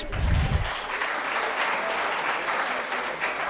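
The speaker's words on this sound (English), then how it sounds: "Ladies and gentlemen, round of applause, please." A crowd at a silver jubilee celebration claps steadily throughout, a dense wash of applause that stays fairly even from start to finish.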